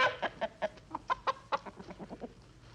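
Farm chickens cluck in quick repeated bursts, several short calls in an uneven rhythm, close and clear with nothing else over them.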